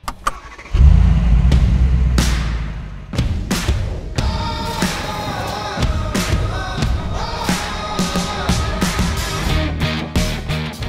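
Mercedes-AMG G63 G-Class engine while driving, a loud close rumble that starts abruptly and holds steady, broken by sharp clicks and knocks with music-like tones over it, and no talking.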